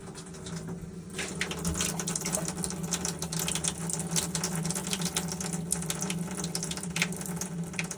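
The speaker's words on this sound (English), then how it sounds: "And empty the sink." Water running steadily from a sink during a plumbing repair with PEX A and PEX B piping, a continuous rushing, gurgling wash with a low pump-like hum, loud and close, no talking.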